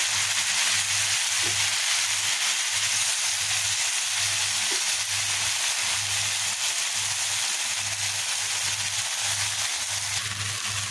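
Steady loud sizzling of boiled water spinach frying and being mixed in a pan, with a faint low rhythmic hum underneath and occasional soft scrapes.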